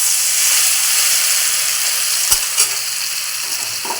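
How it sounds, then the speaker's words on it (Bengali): Chana dal paste hits hot oil seasoned with asafoetida over a high flame, giving a loud, steady sizzle and hiss with a couple of brief scraping knocks. "এবার আমি ডাল বাটাটা এর মধ্যে দিয়ে দেবো"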